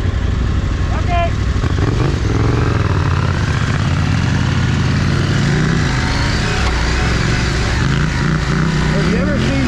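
KTM 790 Adventure and Triumph Scrambler 1200 motorcycles ride a trail, their engines droning loudly and continuously with rising and falling pitch as they rev, while people talk over the engine noise.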